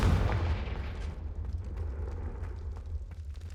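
Confringo fire spell from Hogwarts Legacy bursting in a deep booming explosion, loudest at the start then rolling into a long rumbling decay with faint crackles.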